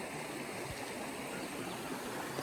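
A clear river on the Konkan coast flows in a steady, quiet rush of water, an even hiss with no pauses and no talking.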